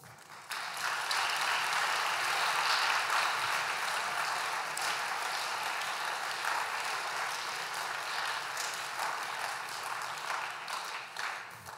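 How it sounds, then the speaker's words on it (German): An audience at a German-French anniversary ceremony for the Élysée Treaty claps warmly, building quickly into dense, sustained applause that carries on evenly for about ten seconds before easing slightly. "Vielleicht beginnen wir auch mit einem warmen Applaus"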